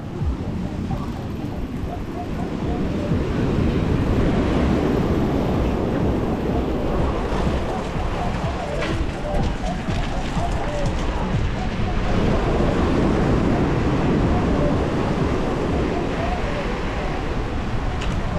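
Waves on a slightly stormy sea at Sochi wash in steadily under gusting wind, close and loud, with a voice talking now and then above the surf.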